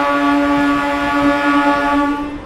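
At Raynagar railway station, a Bankura MEMU train sounds a single sustained, tonal horn blast, loud and steady from start to finish.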